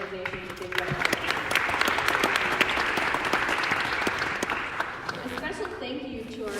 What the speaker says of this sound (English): So let's give all 20 organizations a big round of applause